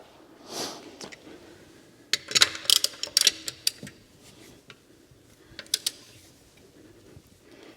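A floor jack lowers the front right wheel of a Tesla during a tire rotation, producing faint creaks followed by clusters of sharp metallic ratcheting clicks and ticks, close by and irregular.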